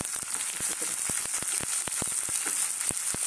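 Onions go into garlic already frying in a pan for a shrimp and poppy-seed dish, making a continuous bright sizzle punctuated by a run of sharp, regular clicks and taps nearby. No voices.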